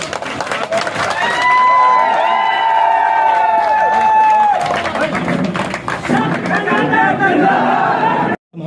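A large crowd at a ceremony cheers, claps and chatters loudly and continuously, with a rising swell of voices and a sudden cut near the end.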